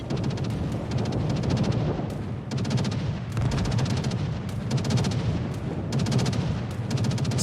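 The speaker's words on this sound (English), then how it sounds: "Please be safe when the bombs come." Bombs explode in a video game with heavy booming blasts, repeated thuds and crackling bursts in quick succession, loud and close, with no talk over them.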